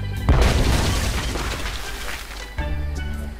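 A deep booming cannon blast with a crashing impact, fired at a ship in the Monkey Island 5 pirate adventure game, followed by a second, lighter thud a couple of seconds later.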